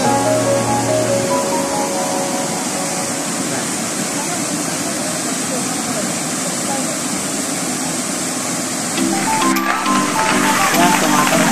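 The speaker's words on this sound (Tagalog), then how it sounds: "Kasi dyan actually may falls pa dyan." Waterfall at a river in Barangay Casala, San Mariano, Isabela, where people swim and jump in, a loud continuous rushing roar of falling water, with people talking over it.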